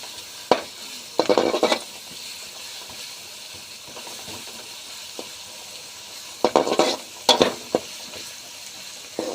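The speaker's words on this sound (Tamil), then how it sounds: "இஞ்சி பூண்டு போட்டேன்" Ginger garlic paste frying in hot oil in a pan for tomato thokku, with sharp bursts of stirring and sizzling in two clusters separated by a quieter stretch of low background hiss.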